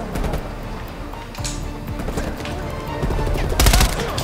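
Automatic weapon bursts in Call of Duty Black Ops Cold War campaign combat, scattered shots building to a loud, sharp burst near the end, with game effects around them.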